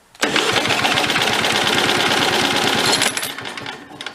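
An antique military engine fires up with a faulty spark and runs on throttle, giving a loud, rapid, rattling chug for about three seconds before it sputters and dies away.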